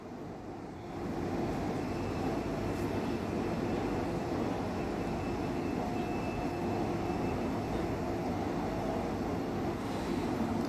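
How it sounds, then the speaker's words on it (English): A tram train departs from a station, giving a steady, fairly faint low rumble that swells just after the start and then holds evenly, with a thin tonal whine above it and no talking. "Waiting for this tram train on the yellow to depart from Micklewood."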